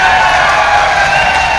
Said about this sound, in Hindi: सभी लोग ताली बजाओ जरा रणजीत सिंह के लिए